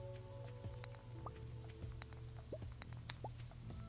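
Soft rain patters steadily in a farming video game, a faint pattering bed under quiet game tones and occasional chirpy blips.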